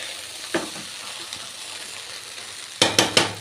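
A spatula stirs chicken fried rice in a pan: one short scrape early on, then three quick scraping strokes close together near the end, over a quiet background hiss with no talking.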